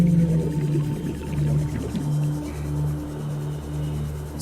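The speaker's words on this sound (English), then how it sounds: "You're the glow whale." Glow whale calls from the Subnautica: Below Zero video game form a deep, resonant, sustained moaning song with wavering tonal hums, loud and alone against an ambient underwater backdrop.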